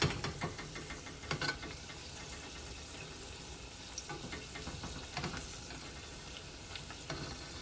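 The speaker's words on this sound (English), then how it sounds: "I want you guys to see how quickly they fry." Low carb peach cobbler egg rolls fry in hot oil with a dense, even crackling sizzle, moderately quiet and steady, broken by a few soft clatters of handling.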